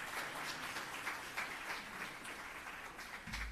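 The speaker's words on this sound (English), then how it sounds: "Please give her another round of applause." Audience applause at a UN Day 60th anniversary flag-raising ceremony in Jamaica, a steady wash of many hands clapping at moderate distance, fairly even throughout with no talk over it.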